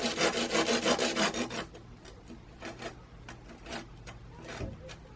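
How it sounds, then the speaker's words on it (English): Sandpaper rubs the freshly cut end of an arrow shaft in quick back-and-forth strokes, loud and close at first, then a run of lighter, scattered scrapes. "I've got a bit of sandpaper here. Sand it down a little bit."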